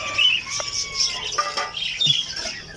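Pet parakeets kept in a breeding setup chirp and squawk in bursts while wings flap briefly, close by and moderately loud, over a faint background hiss.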